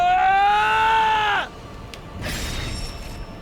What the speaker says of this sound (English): I felt a white-hot pain and heard a scream.